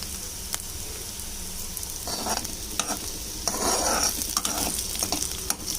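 A clove and a piece of cinnamon fry in oil in a home kitchen pan, a steady sizzle broken by bursts of stirring and scraping with a few sharp utensil clicks, close and without talking.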